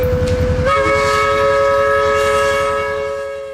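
Freight train led by the Clinchfield 800 locomotive heading north toward Eustis, a loud multi-tone horn blast sounding close over the rumble of the engine and rolling cars, holding steady for several seconds.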